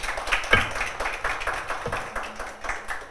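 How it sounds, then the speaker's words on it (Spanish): Scattered applause from a conference audience honoring a panelist at a discussion on cultural industries, moderate and uneven claps with a few sharper hand strikes standing out, no voices over it. "Un aplauso a Nelson."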